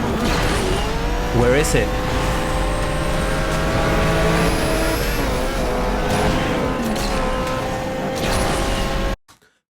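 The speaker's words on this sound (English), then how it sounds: "Did you notice that I could hear all of the other engine sounds when I got close to all the cars, but my engine sound was drowned?" Racing-car engines in the Asphalt 8 mobile racing game drone steadily at game volume, with whooshes as rival cars pass close and brief tire squeals, a voice talking over it before it cuts off near the end.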